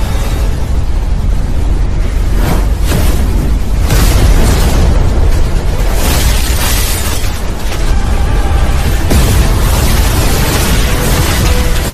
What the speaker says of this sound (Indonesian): Efek pertarungan keduanya membuat ledakan yang sangat dahsyat di dalam dimensi itu